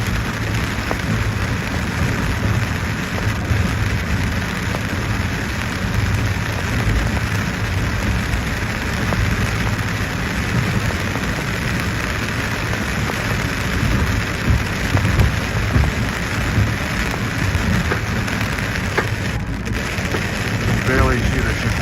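Heavy rain pours steadily outside a BNSF Metra commuter train on an express run into Chicago, a loud continuous hiss drumming on the car with the low rumble of the moving train underneath and no break throughout.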